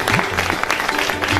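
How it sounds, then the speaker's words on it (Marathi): An audience at a Marathi kirtan performance applauds the tabla and harmonium accompanists with a brief, dense burst of clapping. It is close and steady for a moment, with faint voices underneath. "सगळ्यांनी त्याच्याकरता एकदा टाळ्या वाजवा."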